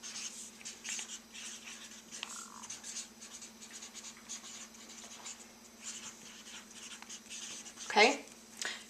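Pencil writing on paper, a close, continuous soft scratching of strokes across the sheet, faint and steady, with a brief louder rustle near the end.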